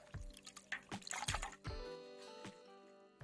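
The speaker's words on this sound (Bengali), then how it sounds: "এই ভেতরের অংশটা ধুয়ে নেব জল দিয়ে।" Water splashing and dripping inside a bamboo tube as it is rinsed, a run of quiet irregular splashes and knocks followed by a fainter trickle, close and with no voices.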